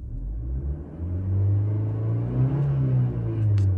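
A 2022 Maruti Brezza LXI engine revs from idle, its low drone climbing smoothly in pitch and holding high before easing off. The sound stays steady, close and fairly quiet, with no voices.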